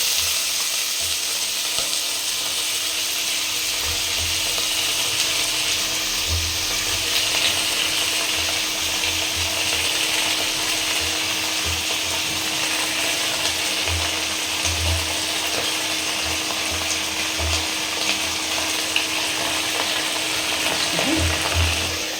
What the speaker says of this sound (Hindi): मेरा राई और फ़ोरन दोनों चटक चुका है, तो इसमें हम फ्राई कर लेते हैं सब्जियों को